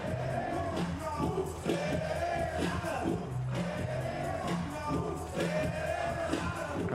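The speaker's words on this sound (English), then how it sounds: "The crowd still building up for the final." Steady roar of a large stadium crowd at a beach volleyball bronze-medal match at the Klagenfurt Grand Slam, a dense murmur with scattered shouts and whoops held at an even level throughout.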